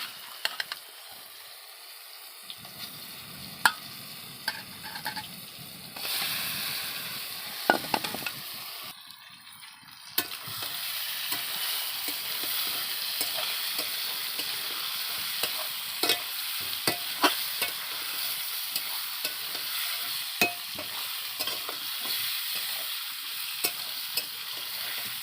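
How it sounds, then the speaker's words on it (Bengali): Pieces of snakehead fish sizzle and spit loudly in hot oil as they fry in a pan for a Bengali kalia, a steady crackling hiss that builds once the fish goes in and carries on with occasional stirring clatter. "এবারে মাছগুলো দিয়ে দেবো।"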